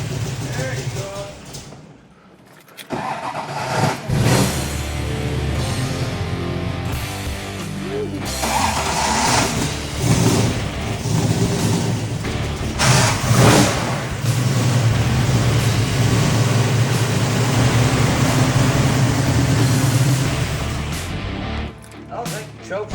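A 1972 Dodge Dart engine cranks and catches, then runs and revs with a rough, loud idle that swells and settles, up close and continuing steadily after a brief pause near the start.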